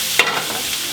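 Vegetables sweat in a hot pan while being stirred, with a brief scrape of the utensil over a soft, continuous sizzle lasting under a second.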